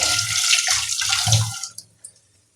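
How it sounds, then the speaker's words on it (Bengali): Water from a tap pours over a spoon being rinsed, a close, bright rushing stream with a few splashes that cuts off, leaving a couple of faint drips and clinks. "এই চামচটা আমি কিন্তু আবার ধুয়ে রাখবো"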